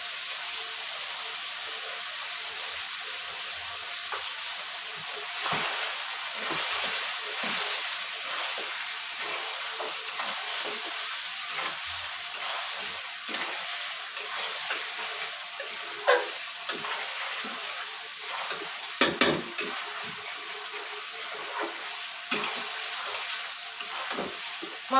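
Chicken with coriander powder and dried chili powder fries and gets stirred in a pot for homemade biryani, a continuous hiss and sizzle broken by clinks and scrapes of stirring, without speech.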